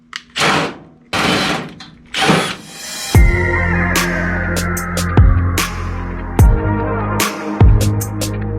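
A power drill whirs in several short bursts against a ModLite race car body panel, struggling and flexing the part, followed by a run of sharp knocks and bangs with ringing metallic tones, close and loud.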